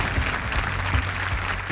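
Studio audience applause welcoming contestants on a televised quiz show, a dense, continuous clapping from a crowd, steady and fairly loud throughout.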